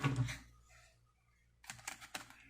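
A short rustle of tarot cards being shuffled followed, after a pause, by a quick series of crisp flicking clicks, close and fairly quiet.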